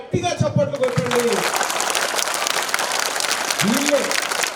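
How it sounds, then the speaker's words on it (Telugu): Government school students applauding their teachers at a shoe distribution event in Yadagiripally, a broad burst of crowd clapping that runs under brief speech at the start and near the end. "ఒక్కసారి మీ టీచర్లందరికీ గట్టిగా చప్పట్లు కొట్టండి."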